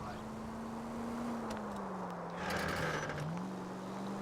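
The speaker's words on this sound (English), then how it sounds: "Oh, my car sounds so angry" A steady car engine drone in the video game L.A. Noire hums throughout, its pitch wavering up and down as if revving, with faint clicks and mechanical noise on top.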